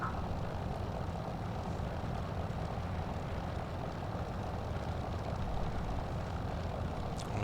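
Curtiss P-40F Warhawk fighter in a flight video game, its piston engine droning steadily and loud throughout with a broad rumbling roar, no voices over it.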